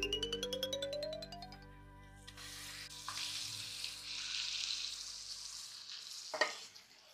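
Mutton pieces hit hot oil in a pan for a Telangana-style curry, giving a steady sizzling fry with stirring clatter and a sharp utensil knock near the end, no talking.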